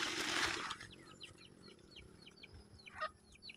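Chickens outdoors on a rural farm in the morning, giving a few brief clucks and calls at moderate distance over a broad wash of outdoor background noise, with a louder rustling burst near the start.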